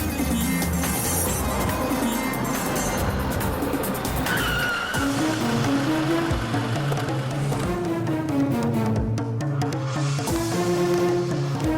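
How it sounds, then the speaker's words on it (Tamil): A car pulls over to the side of the road, its tires squealing and skidding loudly and steadily, with a rising and falling whine throughout. "டிரைவர், வண்டியை ரைட்ல ஓரங்கட்டுங்க."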